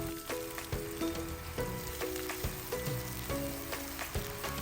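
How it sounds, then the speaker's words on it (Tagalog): Chopped garlic sizzles in cooking oil in a pan for Filipino-style sweet spaghetti sauce, a steady crackling hiss with scattered pops and spatter, close but fairly quiet, with intermittent music playing over it. "Binawasan ko lang ng konti yung ating mantika guys and then ilalagay ko na yung bawang"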